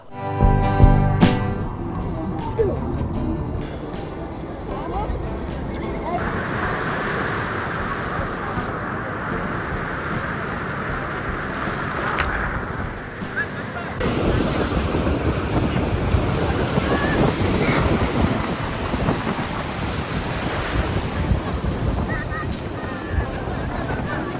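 Sea waves and wind at Cox's Bazar beach make a continuous broad rush of surf with gusting wind buffeting the microphone, a brief bump at the start and a louder stretch of crashing water later on.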